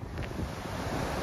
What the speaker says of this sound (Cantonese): 今日呢真係相當之大風。